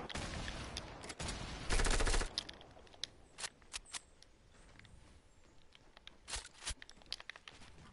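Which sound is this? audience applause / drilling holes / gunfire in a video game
gunfire in a video game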